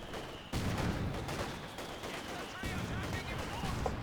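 Mortar fire in the World War II strategy game Company of Heroes 2, with sharp blasts and crackling battle noise amid steady combat, under a commentator talking.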